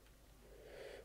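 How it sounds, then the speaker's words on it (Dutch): A brief, soft snoring inhale from a character in The Sims, a single breathy snort-like rasp that swells slightly over about a second, faint and alone. "Ga stoppen met snurken."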